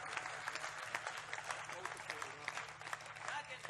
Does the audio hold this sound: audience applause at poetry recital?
yes